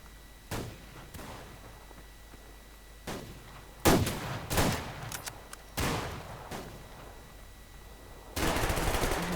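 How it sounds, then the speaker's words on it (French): Gunfire in the video game Survarium: scattered sharp shots and short bursts ring out at irregular intervals over a low background, with one sustained burst of firing at the end. "Donc ici, ça tire beaucoup."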